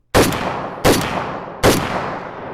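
Three loud, close gunshots from an Arsenal SAM7K-44 rifle fired at a steady pace about three-quarters of a second apart, each a sharp blast trailing into a brief echo, with no talking.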